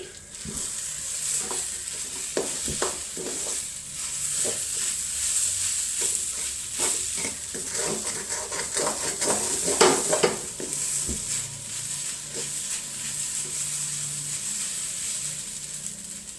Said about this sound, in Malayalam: നന്നായിട്ട് ഇളക്കി കൂട്ടാം.